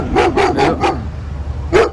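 A dog barks four times in quick succession, pauses, then gives one more bark. The barks are loud and close, with no talking over them.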